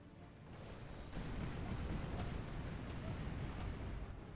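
Pirate ship cannon fire in the video game Tempest, a dense, continuous rumble of booming shots and crackling impacts that swells and holds loud throughout, with no talk over it.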